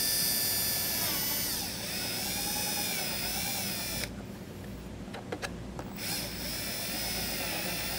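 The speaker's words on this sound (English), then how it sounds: "drill it out with a step bit" A high-pitched whining drill with a step bit bores steadily through plastic up close, pausing briefly midway with a few clicks before spinning up again.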